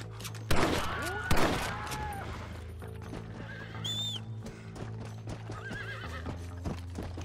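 In the Red Dead Redemption video game, a horse neighs loudly twice up close over steady clip-clopping hooves, with further whinnies and distant gunfire and shouts scattered through the rest.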